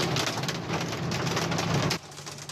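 Hail pounds down in a dense, loud roar of hard hits during a strong hailstorm in Salinas Victoria, Nuevo León, then suddenly drops to a quieter patter near the end.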